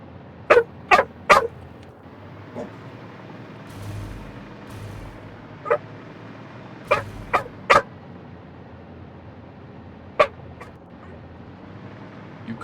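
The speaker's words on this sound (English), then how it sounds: "Titan's got a good bark." A dog named Titan barks in loud, sharp bursts: a quick cluster of three, then single and paired barks spaced out over several seconds, with quiet room tone between them.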